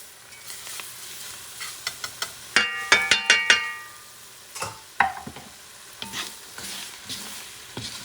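Chopped garlic goes into a gumbo pot over medium-low heat, giving a soft, steady sizzle while a utensil stirs and knocks against the metal pot in a quick cluster of clinks, then a few more scattered scrapes.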